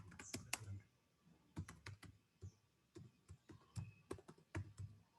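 Typing on a computer keyboard during an online economics lecture: quiet, irregular bursts of key clicks with short pauses between them, alone in a hushed room.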